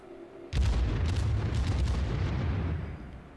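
Heavy naval gunfire from a warship in World of Warships booms out in a loud sudden salvo, followed by a sustained rumbling roar of blasts and echoes with no talk.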